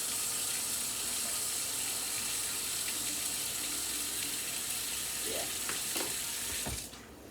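Kitchen tap water runs steadily into a measuring cup for cooking, a continuous broadband hiss close by that holds for about seven seconds before cutting off abruptly, with no talking.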